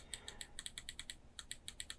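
Quiet, rapid mouse or keyboard clicks from image editing on a computer, a steady series of crisp taps in short bursts with a brief pause midway, close and soft with no talking.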